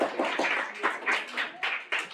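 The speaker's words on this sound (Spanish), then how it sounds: "Con el aplauso de ustedes, amigas y amigos." Sparse audience applause after a talk, a few distinct claps and short bursts of hand-clapping rather than a full ovation, fairly quiet and close.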